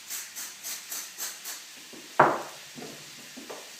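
Beech leaves sizzling in hot bacon juices in a frying pan, a steady hiss with soft rhythmic scraping, then a sharp clack and a brief louder sizzle, close by.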